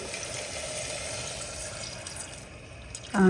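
Water pours into a pot holding chickpeas and salt, a steady running splash under no talk, ending with a louder burst near the end.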